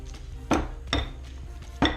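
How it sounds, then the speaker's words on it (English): A potato masher pressing cubed avocados in a bowl, three distinct knocking clunks at uneven intervals, close and fairly loud against quiet background. "We're just going to use a potato masher just to mash those up"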